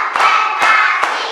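Hand claps in a classroom during a four-beat class clapping routine, three sharp evenly spaced claps over a steady background murmur of voices.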